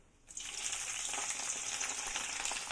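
Chillies roast in hot oil with a steady, close frying hiss. It starts abruptly after a short quiet moment and continues evenly without a break.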